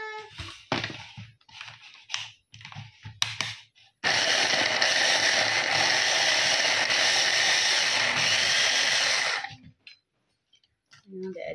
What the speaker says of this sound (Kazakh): Енді біз блендерге чесногымызды және укробымызды салып аламыз.